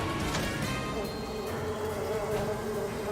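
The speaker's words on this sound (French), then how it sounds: "Ah, des abeilles!" Cartoon bees buzz in a steady, dense drone that fills the whole stretch without pause, with no voices over it.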